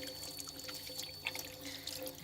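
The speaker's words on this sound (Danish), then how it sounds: "Hænderne vaskes blot med rent vand." Hands soiled from grinding work are rinsed clean under a running tap, a continuous splashing, trickling flow of water with small drips, close by and fairly quiet, with no talking.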